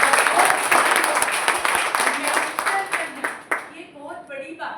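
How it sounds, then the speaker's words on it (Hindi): An indoor audience gives loud applause that fades out over a few seconds, with a voice speaking briefly over the tail end. "जोरदार ताली चाहूंगी।"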